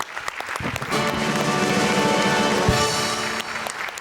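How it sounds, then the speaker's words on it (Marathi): Applause from a studio audience at a Marathi comedy show, a dense sustained clapping that swells in and holds steady for several seconds, close and full. "मी उभं राहून आधी टाळ्या वाजवतो"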